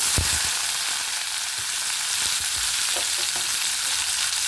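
Mustard seeds, curry leaves and cluster beans fry in hot oil, a steady close sizzle with occasional stirring scrapes and small pops, and no talking.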